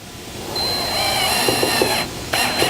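A power driver sends screws into Adirondack chair parts, a close, steady whirring whine with several brief pulses as the bit bites, a short pause, then one more burst.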